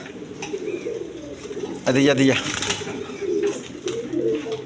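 A pair of Chini Kaldam pigeons coos in soft, low, repeated bursts close by, with a louder burst near the middle, while someone talks over them.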